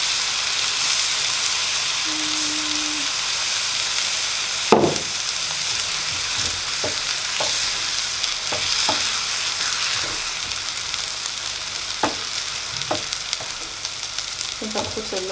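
Creamy spinach cooking in a pan gives a steady, close sizzle and hiss, broken by a few soft stirring knocks and clinks. No one speaks.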